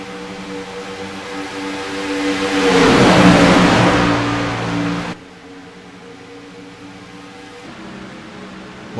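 Sim race cars at Talladega Super Speedway in a video game sweep across the start-finish line, a loud rushing engine roar swelling to a peak mid-clip before cutting abruptly to a lower, steadier drone.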